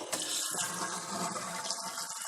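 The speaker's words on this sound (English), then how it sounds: "there's a lot of water that'll come blasting out of there" Water gushes and sprays from a pressurised 5-stage home water filter housing being opened to bleed off 45 psi, a continuous loud hissing rush close by.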